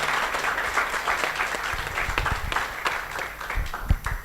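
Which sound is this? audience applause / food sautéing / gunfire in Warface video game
audience applause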